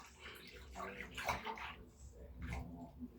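A Nike ski mask and an Under Armour skull cap being hand washed in soapy water, with sloshing, splashing and dripping in uneven bursts as a voice talks quietly underneath.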